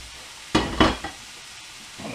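Minced beef drops onto softened onions in a hot pan, giving two sharp bursts of sizzle followed by a smaller one, then a quieter steady frying hiss that builds again at the end.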